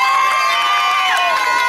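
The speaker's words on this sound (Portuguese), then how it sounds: "Uma salva de palmas, Maurício." A lively party crowd in São Miguel Paulista claps and cheers, loud and close, with whoops and shouts rising over dense applause in a short burst.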